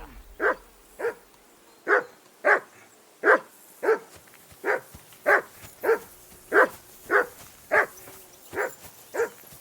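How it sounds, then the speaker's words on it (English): A dog barks steadily in Kingdom Come: Deliverance 2, about fifteen evenly spaced, fairly loud barks in a regular rhythm with no talk over them. "I assume you can hear that damn dog of yours barking"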